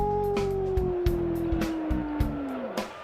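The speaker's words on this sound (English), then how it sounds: "Watch carefully as the Timberwolves will be howling." Crowd howling for the Minnesota Timberwolves at an NBA game in the early 1990s, a long rising-and-falling wail over steady arena noise, with sharp claps and thumps punctuating it.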